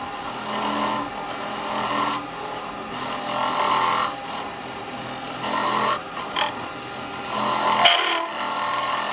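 A live edge laburnum bowl spins on a wood lathe as a gouge cuts it, giving a continuous rasping, scraping tone that swells and fades in repeated passes, close and fairly loud.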